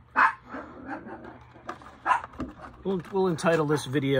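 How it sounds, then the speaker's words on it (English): Dogs bark a few times from another floor of a house, with sharp bursts set against room noise. Someone talks over the barking and after it. "now when I'm doing this they're down here playing, chasing each other around, and now they're barking upstairs"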